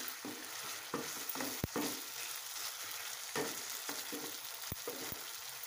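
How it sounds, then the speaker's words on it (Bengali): Potol malaikari with milk powder mixture stirred in a pan over a gas flame, a constant gentle sizzle under repeated spoon scrapes and a few sharp taps against the pan, close and quiet, no talking. "দিয়ে ভালো করে মিশিয়ে নেব।"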